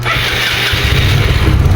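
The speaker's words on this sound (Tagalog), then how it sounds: "Patunayan ko sa inyo na nagpo-push-start pa." A Mio Sporty scooter is push-started, its engine catching and settling into a rough, loud idle up close, with a low throbbing note and a steady chatter beneath.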